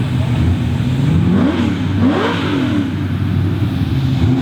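A Mustang and an Oldsmobile drag race car rumble and rev loudly as they roll up to the starting line at a racetrack, engine pitch rising and falling, with a voice talking over the engines.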